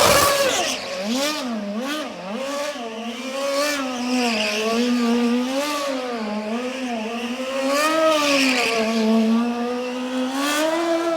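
A Red Bull RB7 Formula 1 car on a downtown Minneapolis street showrun revs hard over bumps, its loud, close engine note swooping up and down with quick throttle blips and sharp pitch changes, and no one talking.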